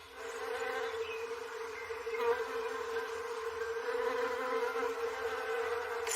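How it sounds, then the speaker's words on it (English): Bees buzz among flowers in a Sussex garden in spring, a steady close-up droning hum that swells slightly and never lets up. "The sound of bees is the sound of spring, as they make their way from flower to flower"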